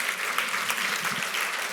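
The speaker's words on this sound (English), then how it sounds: "Give Shannon a nice round of applause." Dense, steady audience applause at a live magic session, a continuous wash of many hands clapping at moderate volume, with no voices over it.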